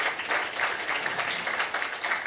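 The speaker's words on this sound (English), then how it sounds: "if we can have a round of applause again for the Professor" An audience at a talk in Chennai gives a round of applause for a professor, continuous fairly soft clapping heard from a distance with no voices over it.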